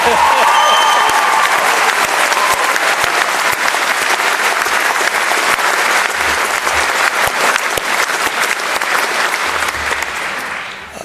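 A large audience at a university graduation ceremony keeps up steady, loud applause for the whole stretch, a dense roar of hands that begins to thin and fade toward the end.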